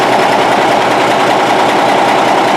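An M925A1 army truck engine running close by, a loud, constant diesel rumble with an even, rapid pulsing and no other sound.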